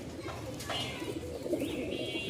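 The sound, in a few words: male Rajshahi Giribaz pigeon cooing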